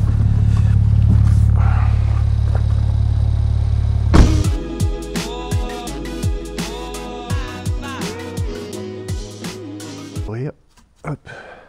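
A Ford Fiesta ST MK7 petrol engine cranks and catches midway, then idles while warming up with a series of short blips of the throttle, rising and falling revs close by, before cutting off near the end.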